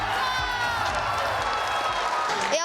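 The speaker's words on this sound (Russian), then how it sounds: "трибунах не смолкал гул поддержки" A sports crowd in the stands at a youth international games roars and applauds steadily, a dense wash of cheering voices and clapping with a brief sharper burst near the end.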